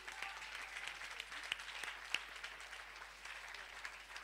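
A church congregation applauds at a French-language sermon, the clapping soft and distant, spread across the room and sustained throughout with a few sharper individual claps standing out.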